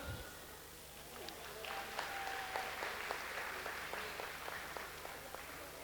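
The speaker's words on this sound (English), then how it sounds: "A big clap for Indira." A small gathering applauds for Indira at a community event, scattered clapping that builds into a modest round, faint and somewhat distant, with soft voices in the background.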